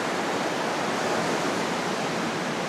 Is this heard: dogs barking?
no